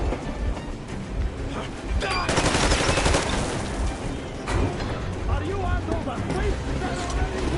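Heavy gunfire in the Metro game, dense machine-gun bursts and shots mixed with rumbling battle noise, loud and continuous, with shouted voices partly masked.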